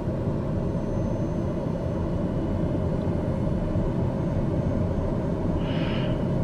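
Airplane engine on landing approach to Quad City International in Microsoft Flight Simulator, a steady, loud, unbroken drone that holds for the whole stretch.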